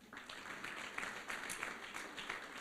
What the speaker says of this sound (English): let's ask another round of applause for that